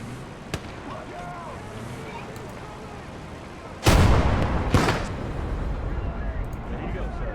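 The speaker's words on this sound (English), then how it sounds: "That's a cannon over there!" Cannon fire in the Kelly's Heroes war video game: a faint sharp crack early on, then two heavy booming blasts close together, followed by a rumbling battle din.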